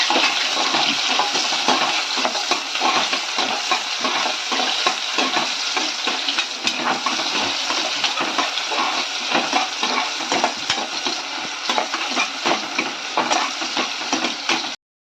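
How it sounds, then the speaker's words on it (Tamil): Steady, busy sizzling of shallots frying golden in a pan, with scraping stirring strokes running throughout at a moderate level, no voices. "நல்லா பொன்னிறமாக வறுத்துக்கிறோம்."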